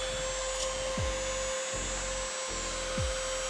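A small rechargeable handheld fan runs steadily with a constant whirring hum and a tonal whine, close by, with a few faint clicks and no speech.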